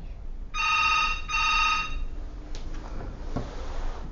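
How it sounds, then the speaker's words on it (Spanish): Two long bursts of an electronic telephone ring sound close and clear, separated by a brief gap, followed by faint clicks and handling noise as the line quiets. "Voy a descolgar el teléfono"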